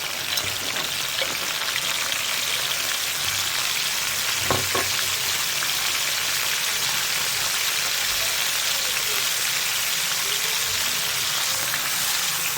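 Chopped onion frying in a pan with garlic-ginger paste, a steady close sizzling hiss throughout, with a couple of faint utensil clicks midway and no talking.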